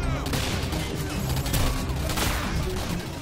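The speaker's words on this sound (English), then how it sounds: "E9 charge rail gun that fires explosive spike" Loud, dense bursts of gunfire and explosive impacts from the E9 spike shot charge rail gun in the Singularity video game, crackling continuously across the whole moment with sharp blasts near the middle and end.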